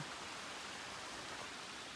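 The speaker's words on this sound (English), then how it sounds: "And then up over here is the waterfall." Waterfall near Opal Creek gives a steady, dense rushing hiss, unbroken and fairly soft.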